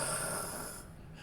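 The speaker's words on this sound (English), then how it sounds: "As he just snores." A character lets out a single soft, drawn-out snore, quiet and close, with no other sound around it.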